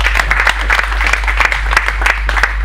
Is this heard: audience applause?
yes